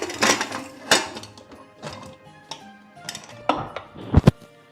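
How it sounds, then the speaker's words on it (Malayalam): A pressure cooker lid being closed over pork and koorka cooking with masala, heard as a few sharp metallic clinks and clunks of the lid against the pot, close and fairly loud, with no talk. "നമ്മൾ കുക്കറിന്ന് അടച്ചു കൊടുക്കുകയാണേ."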